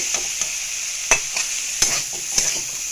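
Small mola carplet fish hit a hot pan and fry with a steady, bright sizzle, broken by a few sharp stirring scrapes at regular intervals.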